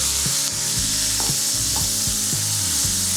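Mushrooms sauté in butter and olive oil in a hot skillet, a steady close sizzle with intermittent scraping and stirring strokes on the pan, no voices.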